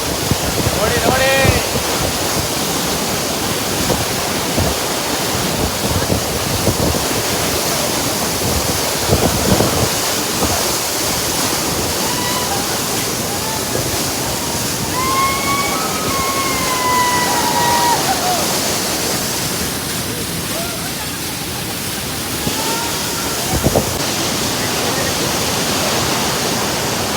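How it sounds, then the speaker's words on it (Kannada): Bangara Kusuma waterfall near Gerusoppa, Honnavar, roaring as a continuous broadband rush of falling water, loud and close, with wind buffeting the microphone and faint birdsong-like chirps rising briefly above it. "ಬಂಗಾರ ಕುಸುಮ ಜಲಪಾತ"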